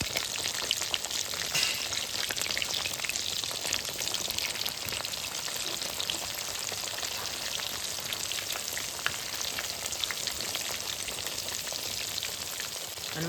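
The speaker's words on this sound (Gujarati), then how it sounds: "હા હવે રેડી હવે મસ્ત તળાયું" Pomfret fritters frying in hot oil give a steady, dense sizzle and crackle that stays even and close throughout, with no talking.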